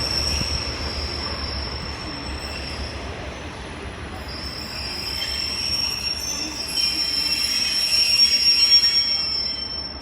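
Train wheels squeal with a thin, sustained high whine over a broad rumble of rolling rail cars at Exeter St David's station, swelling louder toward the end.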